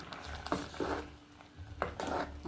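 A spoon stirs thick ground coconut curry paste in a pot, producing soft wet scrapes in a few slow strokes, with a low background hum.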